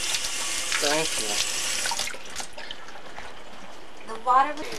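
Water runs from a tap in a steady hiss that stops abruptly partway through, with a person talking over it before and after.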